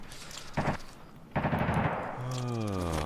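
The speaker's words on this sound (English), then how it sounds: "Seems there is gunfire from above." Video game gunfire from above comes in two loud bursts of rapid shots, followed by a lingering sweeping mechanical tone.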